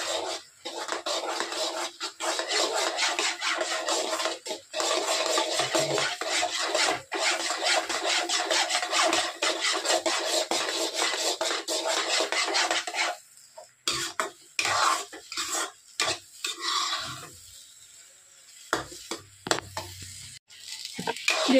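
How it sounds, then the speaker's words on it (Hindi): Semolina being roasted for halwa in a pan on high heat, a steady raspy scraping and stirring with faint sizzle, close and continuous, breaking into intermittent scrapes toward the end. "बस इसको हम तेज करके भून लेंगे"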